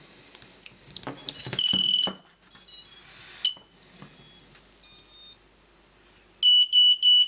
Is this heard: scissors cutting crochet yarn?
no